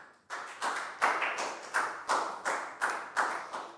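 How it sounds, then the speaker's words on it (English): Applause for a pupil in a Year 4 maths lesson: a steady, evenly spaced series of about ten sharp claps, close and distinct, with no speech over them. "High five and a big round of applause for Pangpon, guys."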